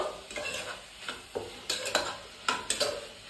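Homemade spice mix being stirred and fried in a home kitchen pan, with a gentle sizzle and repeated clinks and scrapes of a utensil against the pan, close and quiet.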